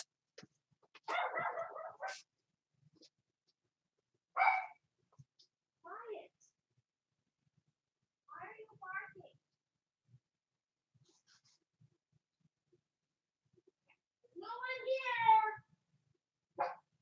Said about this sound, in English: I'm going to see why my dog is barking, just in case.